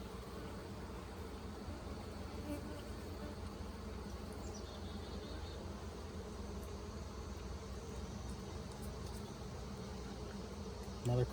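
Honey bees hum and buzz in an open beehive, a dense steady drone of many insects close by that continues throughout without a break.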